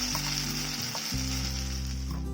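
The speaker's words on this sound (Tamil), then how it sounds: "நெய்யிலே இது பேஸ்ட்டு வதங்கட்டும்." Sweet corn paste sizzling and frying steadily in hot ghee, with stirring, close and continuous throughout.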